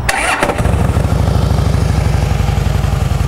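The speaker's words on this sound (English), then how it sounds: "I'm thinking that's an aftermarket muffler on there. It's not very loud, but it does have a nice little low sound to it." A Harley-Davidson Deluxe motorcycle with an aftermarket muffler starts and then idles with a steady, low, even thump. The sound is close and fairly loud, with no talking.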